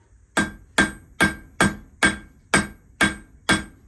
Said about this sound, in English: Always keep your hammers handy.